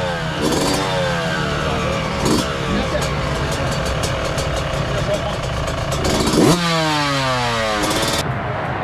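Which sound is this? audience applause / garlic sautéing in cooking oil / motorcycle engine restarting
motorcycle engine restarting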